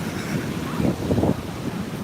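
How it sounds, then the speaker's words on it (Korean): Ocean waves surge and break along a shore where a boy plays in the sea, a steady wash of surf with wind rumble, swelling in two fuller crashes near the middle. "징글징글한 파도들 덤벼라 파도야"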